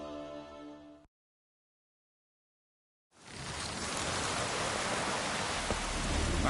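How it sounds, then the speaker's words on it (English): Steady rain in The Witcher video game, a dense hiss of falling water that cuts in after a brief tonal passage and a couple of seconds of silence, then holds loud and unbroken to the end. "Raining again."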